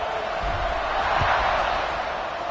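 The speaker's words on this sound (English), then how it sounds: "this crowd is buzzing after that last score" A dense crowd roars steadily in a college football stadium at a Northwestern versus Penn State game just after a score, a continuous wash of voices with faint commentary under it.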